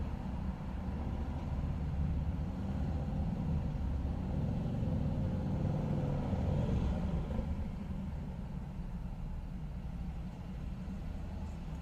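Police motorcycle units approach a traffic collision scene, a steady low engine rumble building slightly over nearly twelve seconds with broadband road and traffic noise, no talk.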